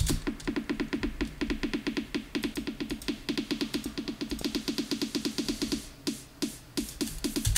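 A crisp, dry, snare-like percussion sample, equalized bright, repeats in a fast, steady pattern, snappy, then a few sparser hits close it out.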